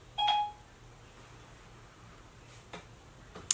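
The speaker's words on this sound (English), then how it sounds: "my phone just decided to beep at me." Mobile phone beeping, a single short electronic tone chirp, clear and close, followed by near silence with faint ticks.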